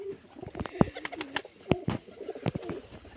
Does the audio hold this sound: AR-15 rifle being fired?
no